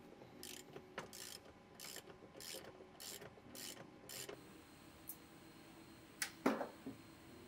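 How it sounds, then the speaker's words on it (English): Deep 18 mm socket and 16 mm wrench working seat belt bolts loose on a Polaris RZR Pro R, giving a run of quick ratcheting clicks and metallic ticks up close, then a few scattered clinks. "To remove these two seat belt bolts, we're going to use a deep 18 millimeter socket and a 16 millimeter wrench."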